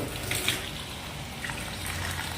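Tap water runs steadily while rice is washed under the faucet, a continuous close splashing flow that stays even throughout with no voices.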